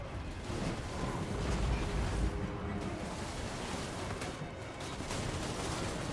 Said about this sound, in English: We're getting some counter fire here.